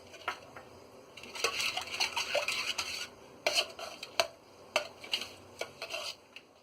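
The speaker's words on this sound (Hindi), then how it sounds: "इलायची और रूह अफ़ज़ा डाल के भी हमने अच्छी तरह इसे चला लिया है" A spoon clinks and scrapes against a metal pot as lassi with cardamom and Rooh Afza is stirred, with irregular quiet taps and swishing strokes close by.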